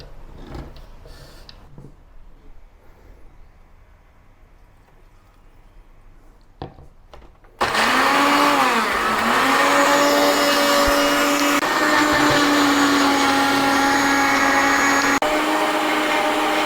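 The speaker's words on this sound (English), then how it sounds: "I'm going to transfer these ingredients to the electric blender to blend them into a paste." Electric blender grinding garlic, ginger and fresh turmeric into a paste for a Malaysian squid curry; after a few quiet seconds with faint clicks, the motor starts abruptly and whirs loud and steady to the end.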